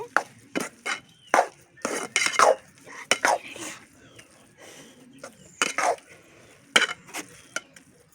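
A spoon scrapes and clanks against a pan while Maggi noodles are stirred with masala powder, giving a run of irregular metallic knocks and scrapes, close and fairly loud, with brief pauses between strokes.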